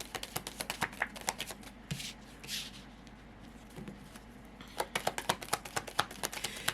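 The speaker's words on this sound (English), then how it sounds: "I'm going to make sure they're all nice and shuffled up here for you" Cards are shuffled in quick, crisp riffling bursts close by, a pause in the middle before another rapid run of snapping shuffles.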